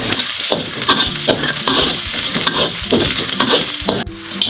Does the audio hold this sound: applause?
no